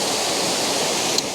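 Waterfall carrying brownish, mineral-stained water, a steady dense broadband roar filling the whole moment with no letup and no voices.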